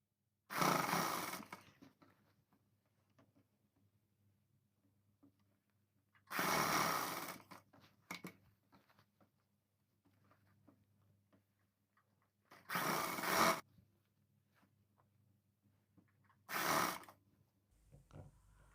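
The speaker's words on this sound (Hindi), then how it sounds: "इस तरह से मिलाने के बाद में देखिए हमें सिलाई लगाना है" A sewing machine stitching a suit runs in four separate bursts, each a dense whirring rattle lasting a second or two, close and clear, with near silence between runs.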